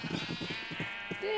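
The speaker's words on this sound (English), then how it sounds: "So here we have some sheep, and I spent a little bit of time breeding them." Bleating from bred sheep in Minecraft, several short overlapping bleats in a quick burst, close and fairly loud, with a speaking voice underneath.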